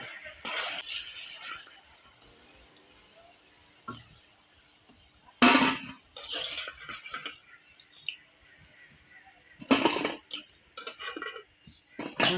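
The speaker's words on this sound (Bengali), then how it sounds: "আমি লাড়াচাড়া করে দেবো ভুট্টাগুলি আমি ভেজে ভালো করে লাল লাল করে ভেজে উঠিয়ে নেব" Corn kernels frying in a pan for a kofta recipe, stirred with a utensil, giving sparse bursts of scraping and clinking metal against the pan at irregular intervals over quiet sizzling.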